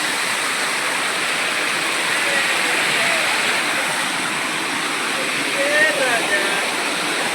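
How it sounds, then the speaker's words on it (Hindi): A forest waterfall rushes in a steady, dense roar that fills the whole stretch, loud and close, with faint bird calls in the background. "और अभी जो आप सभी देख रहे हैं ये झरना है।"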